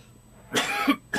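Two short, harsh coughs close by after a quiet stretch, the second brief burst cutting in near the end.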